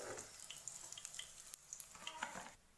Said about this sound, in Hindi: दूसरे भी हम वैसे ही फ्राई कर लेंगे।